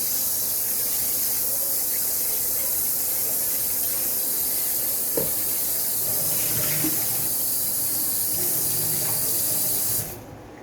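Steady hiss of hot water pouring from a tap, continuous and close, cutting off near the end.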